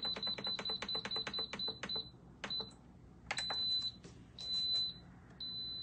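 A quick cooker beeps as its 18-minute timer is set for green lentil soup: a rapid run of short electronic beeps, then a few spaced single beeps and longer held tones, close and clear with no talk.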